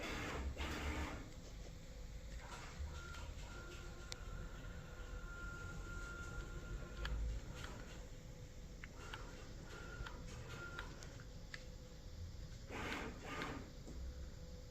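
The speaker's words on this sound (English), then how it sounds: "I should be able to use the CNC" A handmade CNC machine runs in a home wood workshop, giving a steady mechanical whir with faint tonal whines and occasional clicks and knocks.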